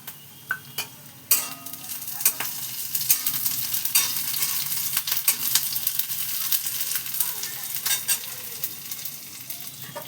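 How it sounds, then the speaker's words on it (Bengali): Green chillies hit hot oil in a pan while cooking kakrol bharta, a close, loud crackling sizzle with sharp pops and utensil clicks scattered over the steady hiss. "এইবার দেখো কাঁচা লঙ্কা দিয়ে দিচ্ছি।"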